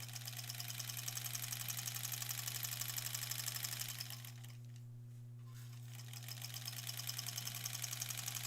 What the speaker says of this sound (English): So what we're doing is called stitch in the ditch. That's when we're sewing right in the seams.